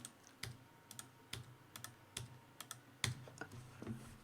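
Computer keyboard keys pressed for shortcuts click sharply in a loose, irregular series of single taps, close and fairly quiet, with no voices.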